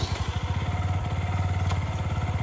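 A newly bought motorcycle's engine idles with a rapid, throbbing putter that steadies into a smoother hum as the clutch is eased out and a little throttle is added, close and alone.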